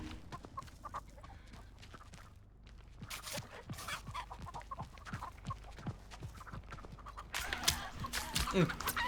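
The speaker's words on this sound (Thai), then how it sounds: "ได้ยินปะ พี่ไก่ร้องระงมเลยตรงเนี้ย" Chickens cluck and squawk inside The Texas Chain Saw Massacre video game, a faint, scattered flurry of clucks over quiet game ambience that thickens toward the end.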